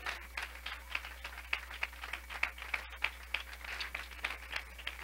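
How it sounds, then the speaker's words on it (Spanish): Congregation applauding during a Spanish-language church prayer service: faint, scattered clapping that keeps going steadily for several seconds with no voice over it. "Dele ese aplauso fuerte al Rey."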